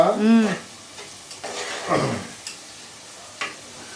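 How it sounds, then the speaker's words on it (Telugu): Onions frying in a pan for country chicken curry, a faint sizzle with occasional spatula scrapes, while a voice speaks briefly at the start and again near the middle. "ఉల్లిపాయ కొద్దిగా గోల్డ్ కలర్ వచ్చేదాకా చూసుకొని ఫ్రై చేసుకోవాలని చెప్పండి"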